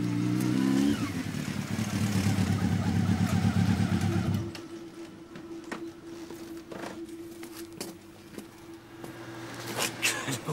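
A 600 cc motorcycle engine revs loudly and climbs in pitch for several seconds, then cuts off abruptly, leaving a quieter background with a few faint engine bursts and some voices.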